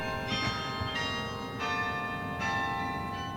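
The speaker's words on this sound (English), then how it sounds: "The Campanile's bells first rang in 1917." Bells of the Campanile, the Berkeley bell tower, ring out in a series of clear, resonant strikes roughly every second, each one sustaining and overlapping the last against a steady background hum.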